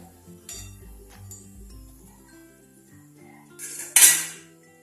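Fried puris are lifted out of the pan, with soft metal scrapes and clinks of a utensil against the vessel, ending in a sharp loud metallic clatter near the end.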